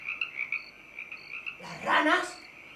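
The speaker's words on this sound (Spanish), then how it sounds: "¿Las ranas?" Frogs croaking at night during a staged performance of the play Bodas de Sangre, a few soft rhythmic croaks at first, then a louder rasping burst near the end, all fairly faint and with no talk over them.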